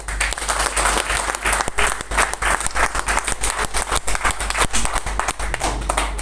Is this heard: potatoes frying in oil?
no